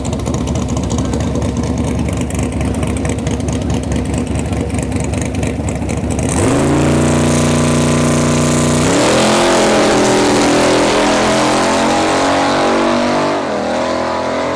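A drag racing car at a dragstrip test-and-tune event launches and accelerates hard past the listener, its loud engine note climbing through gear changes after a rough idle.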